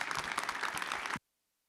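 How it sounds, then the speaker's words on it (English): An audience breaks into dense applause at a sports talk show. It is fairly faint and steady, then cuts off abruptly after about a second, leaving silence. "round of applause for Drake Hills"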